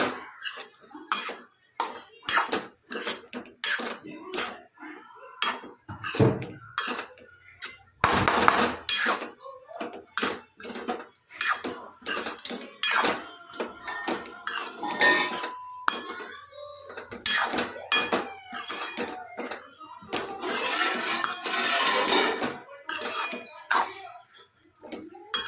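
A spoon stirs batata poha in a pan, giving irregular metallic clinks and scrapes against the pan in quick bursts, with a few soft coughs or throat sounds between the strokes.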